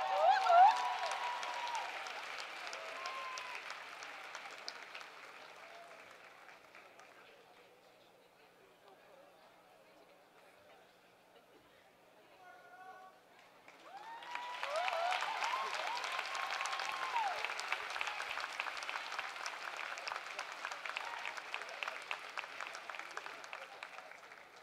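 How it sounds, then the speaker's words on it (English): A crowd at a December commencement ceremony in Greenwood, Delaware applauds a graduate. Faint, distant clapping fades away, a quiet lull with murmuring follows, then a fresh round of steady applause swells and holds to the end. "Let's give him another round of applause."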